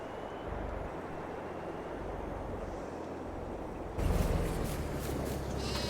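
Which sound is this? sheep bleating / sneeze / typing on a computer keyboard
sheep bleating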